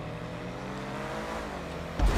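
A car engine in a GTA race revs in the video game, its pitch sliding steadily with the throttle, followed near the end by a sudden louder burst of engine noise.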